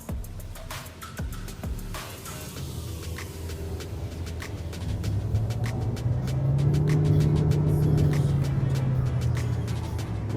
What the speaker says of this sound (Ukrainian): Зараз будемо робити заїзд до 100 кілометрів.